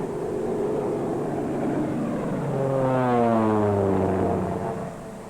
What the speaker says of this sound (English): Airplanes, already in use in many sections of the South, are among the outstanding methods for saving time and labor.